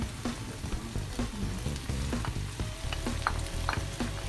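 Garlic sizzling in hot oil in a pan while being stirred for Filipino afritada, a continuous close crackling fry with repeated scraping stirs of a utensil against the pan, no talking.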